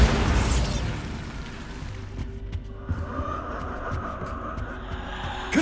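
A Bombarda spell explodes in Hogwarts Legacy with a loud, broad blast at the start that decays into a low rumbling tail and faint scattered debris sounds.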